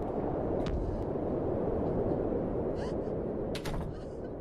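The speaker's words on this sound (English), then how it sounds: "Explosion." A huge explosion in the horror video game Bad Parenting: a dense, loud, sustained rumble fills the whole stretch, with brief crackling bursts on top.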